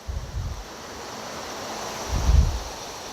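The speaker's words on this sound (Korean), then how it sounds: "돌 앞에 물 흘러가는 거 보이시죠?" Fast-flowing stream water rushing past rocks in a Gapyeong valley, a steady broadband wash with wind buffeting the microphone, and two low rumbling gusts near the start and toward the end.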